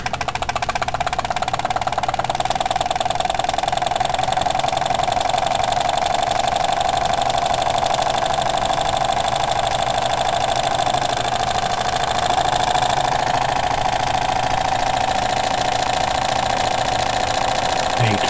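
Jensen 25 engine running steadily at a constant speed, a loud continuous mechanical hum and whine with no pauses and no talk over it.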